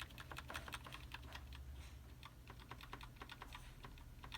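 Computer keyboard keys are pressed in quick, irregular clicking bursts while setting up a PC's BIOS, faint and close with a low hum underneath and no talking.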